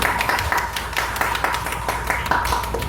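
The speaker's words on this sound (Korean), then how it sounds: "건강하게 지내라고 우리 박수로 경례합니다" A church congregation claps together during a Sunday worship service, sending off members who are leaving, with steady, fairly loud applause for a few seconds.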